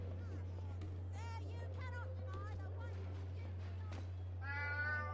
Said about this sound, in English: Seems like this cat is leading us somewhere.